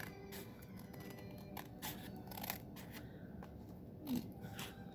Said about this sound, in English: you just want to cut around the top of the envelope flap.